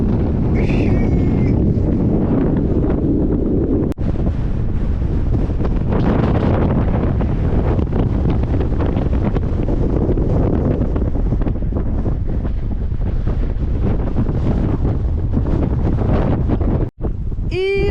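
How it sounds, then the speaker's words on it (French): Heavy wind buffets the microphone continuously with a loud, low roar, broken by a couple of sharp clicks and dropouts, on the Syme Hut Track in New Zealand. "C'est très venteux."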